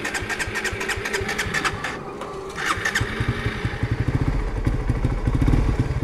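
A Suzuki GSX-R motorcycle engine fires with a burst of rapid pulses, briefly drops off, then restarts and settles into a loud, close, steady throbbing idle.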